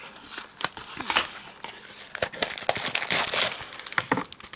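Plastic packaging of a Happy Holidays border stamp and die kit crinkling and rustling as it is opened, loud and close, in continuous irregular crackling bursts with no talk.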